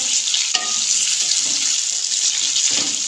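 Potatoes and onions frying in a karahi give off a loud, steady sizzling hiss, broken now and then by a spoon scraping or clinking against the pan.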